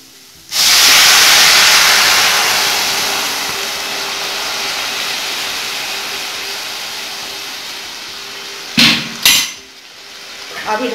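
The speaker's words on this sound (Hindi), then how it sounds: "अभी इसमें पानी डाल दूंगी," A steady rushing pour of water into a cooking pot of masoor dal starts abruptly and runs for several seconds, then tapers, followed by a couple of brief clanks.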